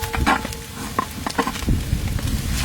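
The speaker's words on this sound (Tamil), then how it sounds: "இஞ்சி நல்லா ரோஸ்ட் ஆயிடுச்சு." Ginger roasting in a pan for a Tamil dish gives off a soft, steady sizzle with occasional light scraping and clinks, moderately close, with no one speaking.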